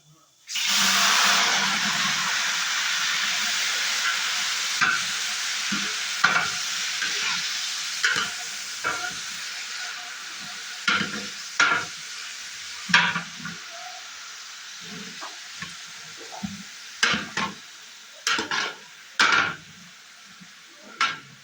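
Loud oil sizzles and hisses in a pan as cumin seeds hit it for a tempering, settling into a steady fry punctuated by scraping stirs and clinks.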